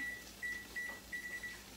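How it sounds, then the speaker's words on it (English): A kitchen timer set for six minutes beeps in short, regular bursts: about four quick double and single beeps sound close and clear over a quiet kitchen hum, with no talking. "So I'm going to set my timer."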